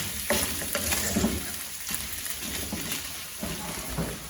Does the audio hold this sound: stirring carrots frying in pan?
yes